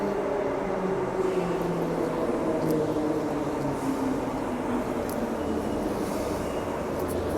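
A two-car Transperth suburban train runs between Subiaco and Fremantle, heard from inside the carriage. The rumble and rolling hum stay steady and loud, with faint higher squeals, and no one talks.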